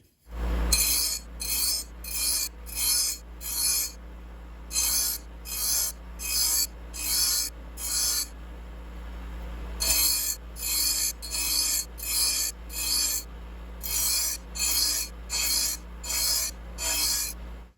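A hand file rasps across the edge of a Troy-Bilt TB110 push mower blade in a series of close, even strokes, about a dozen of them in two bursts separated by a short pause, with no one speaking.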